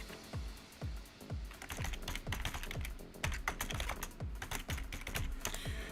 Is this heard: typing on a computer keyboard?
yes